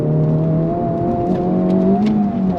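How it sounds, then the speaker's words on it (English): A 2023 Honda Civic Type R pulls hard in second gear, its engine note droning loud and close as the pitch climbs steadily, with no talking over it. "On throttle, here we go, second gear."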